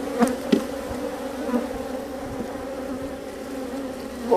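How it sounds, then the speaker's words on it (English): A honeybee buzzes close and steady against a beekeeper's veil during a hive inspection, a continuous droning hum with a few brief bumps and taps as it strikes the mesh. "I got a bee that's just banging my veil like there's no tomorrow"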